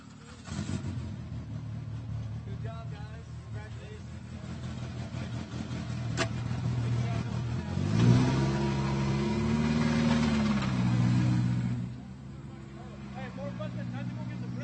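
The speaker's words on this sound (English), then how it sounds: "We got more cars coming in and one getting ready to roll up to the ramp right now" Race car engines at the Baja 400 off-road race finish line idle and rev in a deep rumble that swells into a louder throaty rise midway, then drops back, with someone talking over it throughout.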